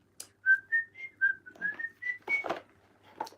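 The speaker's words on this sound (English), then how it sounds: "Then we whistle, don't we?" A person whistles a short bouncy tune of about ten clear notes in a row, close and distinct, with light voice-like sounds in between.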